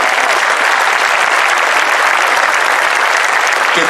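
At a Miss Toscana pageant show, a theatre audience gives loud, continuous applause in memory of departed comedians, a dense unbroken wash of clapping from start to finish.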